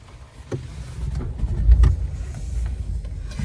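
The automatic trunk of a 2014 BMW 550i xDrive closes with a low motorized whir, building to a soft thud partway through, heard close and fairly quiet.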